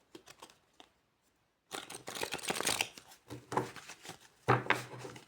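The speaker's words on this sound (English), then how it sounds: "I'm having a really hard time shuffling today." Tarot cards are shuffled close up, with quick papery riffles and crinkly bursts separated by a short pause, quiet and with no talking.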